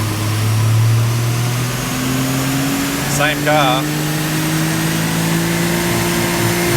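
A 660cc all-wheel-drive kei car drones steadily on a dyno, with its engine and the rolling fan giving a loud continuous hum. A few words are spoken over it partway through.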